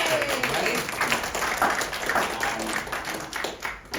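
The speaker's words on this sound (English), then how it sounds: "so everybody give him a warm round of applause." Audience applause greets a featured poet at a poetry reading, a steady, moderately loud wash of many hands clapping that tapers slightly near the end.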